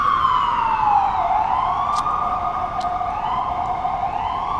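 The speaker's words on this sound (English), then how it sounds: "there's the sirens pass." Emergency vehicle sirens wail loudly and steadily, their pitch sliding down and rising again as they pass close by, near Zuccotti Park in New York.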